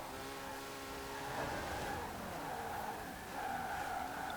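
A 1987 Porsche 959 in Forza Horizon 4 accelerating hard in sixth gear at high speed, a steady strained engine tone that climbs gradually with a continuous rushing roar.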